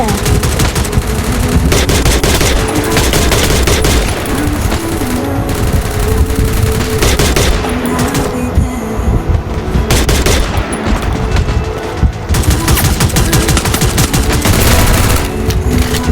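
Gunfire in the Free Fire battle royale game during a ranked match, dense and loud automatic bursts running almost nonstop over layered game effects, with occasional voices underneath.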